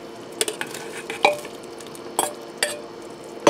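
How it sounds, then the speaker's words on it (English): Beef cubes dropped into bubbling red wine gravy in a pressure cooker, a few soft wet plops and stirring clatters over a quiet simmer, with no voices. "I'm going to add my beef cubes in."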